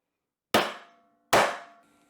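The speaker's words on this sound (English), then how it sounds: "I'm just going to use a 2-pound brass hammer and knock it through there" Two sharp metallic knocks about a second apart, each a 2-pound brass hammer blow knocking an oval center die through metal, with a ringing clang that decays quickly, close and clear in a quiet space.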